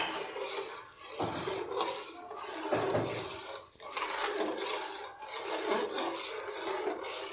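A spoon scrapes and knocks around a pot as payesh, rice pudding sweetened with date palm jaggery, is stirred, giving repeated close clinks and rubbing strokes in an uneven rhythm, with no talking.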